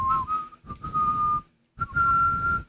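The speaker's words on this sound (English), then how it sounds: "So you whistle the song." A person whistles a song tune alone, in two loud, sustained phrases separated by a short pause.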